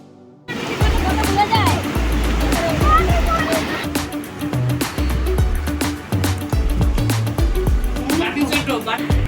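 Sea waves wash and slosh at Digha beach, close and loud, with bursts of surf and splashing under several people talking and shouting.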